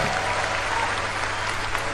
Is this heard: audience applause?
yes